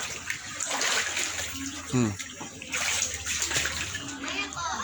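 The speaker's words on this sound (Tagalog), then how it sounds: "Ang baha guys oh. Abot na sa bahay." Floodwater flowing and splashing up against a house, a steady watery rush heard under voices talking nearby.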